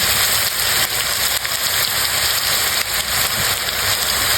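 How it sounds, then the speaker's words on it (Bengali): Onion and garlic paste hits hot oil in a pan for a Bengali fish curry, giving a loud, dense, rain-like hiss that holds steadily and close throughout with faint crackles and no speech. "এখন আমি দিয়ে দিচ্ছি পেঁয়াজ বাটা, রসুন বাটা"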